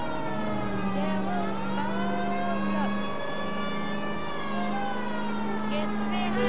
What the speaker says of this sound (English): That's what I expect when I have the siren blowing.